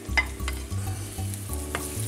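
Garlic and cayenne chili frying together in hot oil in a pan, a steady close sizzle with rhythmic stirring scrapes and low clatter throughout, no talking.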